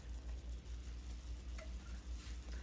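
Burgers frying in a pan while cheese melts over them give a steady, close sizzle with a soft rhythmic pulsing underneath; no talking.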